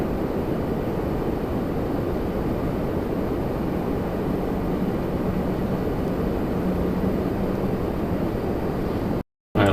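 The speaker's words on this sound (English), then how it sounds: "There's a citation coming in." A Cessna Citation jet arrives at Toronto Pearson, its steady, broad engine roar holding even and continuous at a moderate distance with wind rumble, ending in an abrupt brief cutout.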